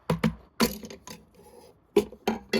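Several sharp plastic clicks and snaps sound close up, spaced irregularly, with faint handling noise between them.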